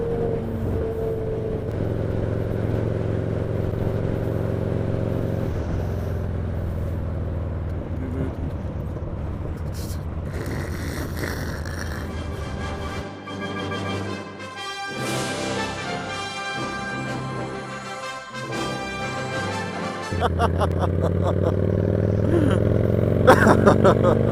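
A four-cylinder stunt motorcycle engine revs and drones nearby, rising to a higher whine and falling back, with clattering and voices mixed in.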